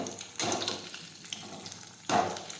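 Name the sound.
okra frying in oil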